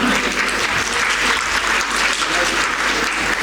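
An award ceremony audience applauds loudly and steadily, a dense wash of many hands clapping without pause for several seconds.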